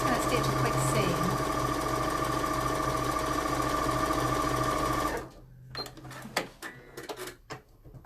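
A sewing machine fitted with a walking foot runs steadily as it stitches a seam in scuba fabric, a loud continuous mechanical whirr that stops abruptly, followed by a few scattered clicks and handling noises.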